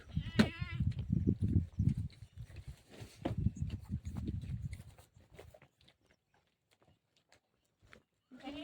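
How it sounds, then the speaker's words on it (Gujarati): Goats bleat nearby with a sharp wavering cry at the start, mixed with shuffling livestock noise and murmured sounds that fade into near silence. "અટાણે બકરા નો જાય ઘરે તો કઈ જાય"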